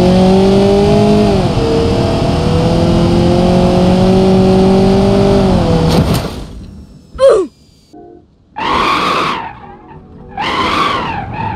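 Mercedes-Benz car in BeamNG.drive: a loud, steady engine drone rises in pitch for six seconds, then cuts to sharp crash and skid bursts with short silences between them.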